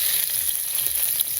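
Onion frying in a pan with garlic and green chilies for fried water spinach. A steady, close, crackling sizzle runs throughout with no voices.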